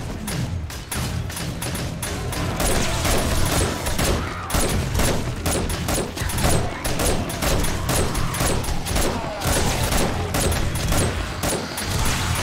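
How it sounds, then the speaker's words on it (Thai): A machine gun fires in rapid, sustained bursts during a zombie fight in the 7 Days to Die survival game, loud and close, with dozens of sharp repeated shots continuing for the whole stretch. "กระสุนน้ำหมดเร็วมากค่ะเพราะใช้ปืนกลนะ"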